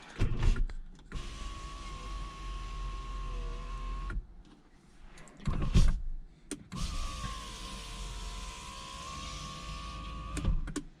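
A car power window motor, its regulator worn, whines steadily for a few seconds, stops with a thunk, then runs again, close and clear with no talking.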